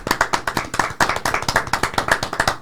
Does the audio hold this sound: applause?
yes